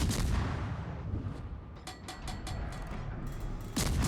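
Ship artillery shells firing during a naval battle video game, heard as a rumbling boom followed by a series of sharp, evenly spaced mechanical clanks and reports, with another heavy blast at the end.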